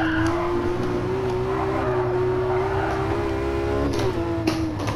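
Race car pushed hard around the Nordschleife in Gran Turismo Sport, its engine holding a loud, steady high-revving drone throughout, with a brief tire scrub and shift near the end.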